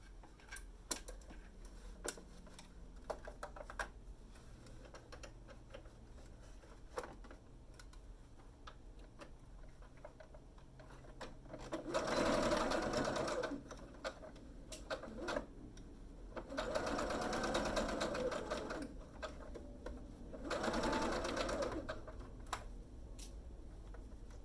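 A home sewing machine stitches face mask seams with a 3/8 inch seam allowance along a curved top edge. It runs in three close, steady bursts of a few seconds each, with quiet pauses between them and no talking.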